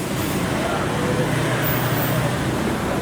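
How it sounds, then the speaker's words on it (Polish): Loud, steady roar of a busy street in the Maldives crowded with scooters and motorbikes, a dense continuous wash of engine and road noise close by. "tu jest skuterek przy skuterku"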